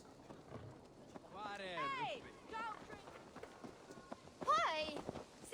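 Hooves clip-clop from a horse in the video game Assassin's Creed Valhalla, moderately loud under steady talking, with brief whinny-like tones rising above the trotting rhythm.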